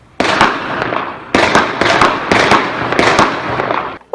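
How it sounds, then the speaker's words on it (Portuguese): Several sharp, loud gunshots fired into the air during a night-time ATM robbery, coming in a quick irregular burst of about six cracks, each with a short echoing tail. "Os criminosos dispararam vários tiros para cima antes de explodir o caixa"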